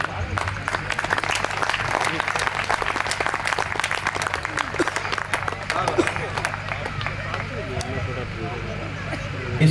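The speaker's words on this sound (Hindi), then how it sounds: "और जब प्यार करेंगे तो तालियां भी बजाएंगे।" Audience clapping at a Hindi poetry recital (kavi sammelan), a crackling stream of claps over a low steady hum, with crowd murmur and voices talking through it.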